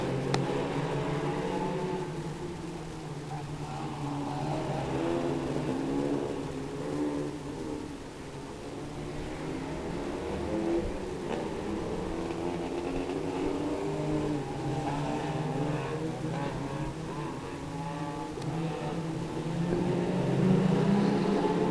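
Pro stock cars race a final on a damp, slippery Cowdenbeath Racewall track, their engines droning and revving steadily at a distance for the whole stretch, fairly faint and without talk.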